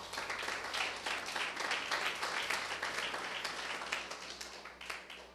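A church congregation applauds together in a steady, dense wash of clapping that holds evenly throughout, with a low hum underneath and no voices.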